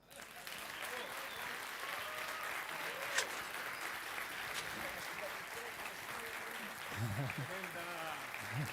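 Sustained applause from an audience, steady clapping throughout with a slight swell near the end.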